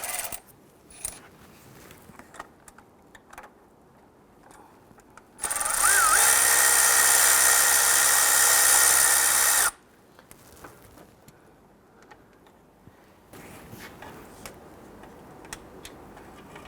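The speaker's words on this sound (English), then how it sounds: "I'm just going to switch over to a power tool so I can go ahead and zip that out" A power tool whirs continuously for about four seconds at high speed, loud and close, unscrewing a bolt while replacing the alternator on a 2006-2012 Toyota RAV4 3.5L V6, between quieter stretches of workshop handling noise.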